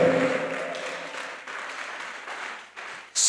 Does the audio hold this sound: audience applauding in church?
yes